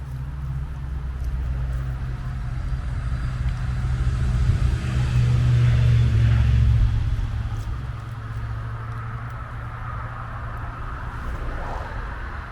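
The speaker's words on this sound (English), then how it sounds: "Sorry for the noise, I'm quite close to a road" Steady low rumble of road traffic close by a forest, vehicles passing in a continuous drone that swells in the middle, with no talk over it.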